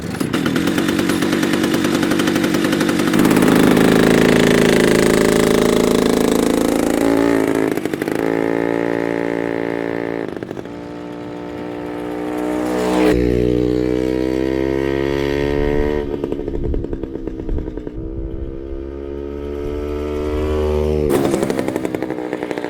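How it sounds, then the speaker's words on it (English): A pocket bike with a chainsaw engine runs and revs, a loud buzzy two-stroke drone climbing and falling in pitch through repeated throttle blips, steady and close throughout. "Let's hope the bike runs though."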